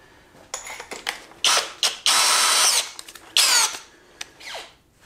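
Greenworks cordless power drill boring with a 3/4 inch spade bit, several loud whirring bursts of varying length starting and stopping, close up with no talk.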